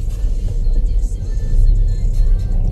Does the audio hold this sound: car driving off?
yes